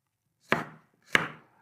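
A knife chops through garlic cloves on a board, two sharp, close chopping strikes about half a second apart, each with a short fading tail, in otherwise quiet surroundings.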